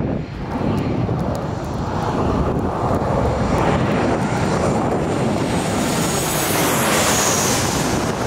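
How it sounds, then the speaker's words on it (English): A loud airplane roars overhead at an airport lookout, its engine rumble filling the air steadily and close by throughout. "I'm staying here for this last airplane."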